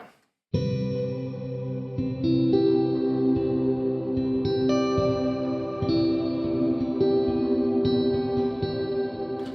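A sustained, shimmering wash of reverb from the Fracture Sounds Hemisphere ambient instrument swells over a held synth chord, bright upper tones sparkling above a dense, echoing pad that fills the space.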